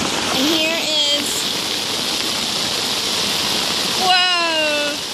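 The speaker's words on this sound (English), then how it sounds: "Look at that waterfall!" Stormwater runoff pours down city stairs as a steady broadband rush of water, with excited voices and a child calling out over it near the start and the end.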